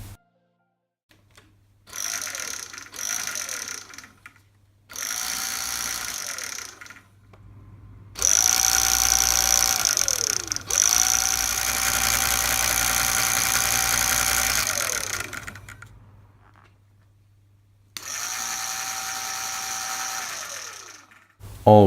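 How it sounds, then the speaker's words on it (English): A homemade electric scooter's motor runs on the throttle in several bursts, its close whine climbing and falling in pitch, with two longer sustained runs before it cuts out and spins up again. "now twisting the throttle will engage the motor."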